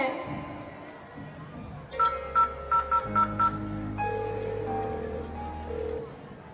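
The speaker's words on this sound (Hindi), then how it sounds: "मैं अभी अपने बेटे को फोन करती हूँ" Telephone being dialed: a run of six short, evenly spaced keypad tones rings out over a soft background tone, followed by steady ringback hums.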